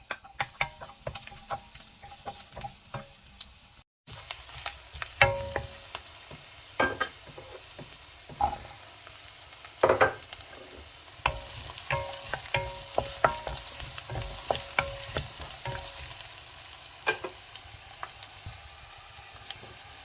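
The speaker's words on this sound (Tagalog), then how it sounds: "gigisa na tayo ng bawang" Garlic sautés in a hot pan for stir-fried pancit canton, a close, continuous sizzle and crackle broken by scattered ticks and scrapes of stirring, with no talking.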